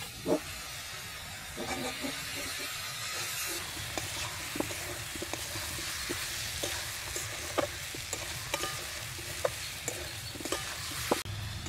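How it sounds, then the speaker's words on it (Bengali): Raw potatoes being stirred into fried spices in a pan, a steady hissing sizzle with repeated light scrapes and taps from the spoon. "তো এবার কাঁচা আলুগুলো এর মধ্যে দিয়ে দেবো, দিয়ে একটু নাড়াচাড়া করে ঢাকা দিয়ে দিয়ে রান্নাটা করব।"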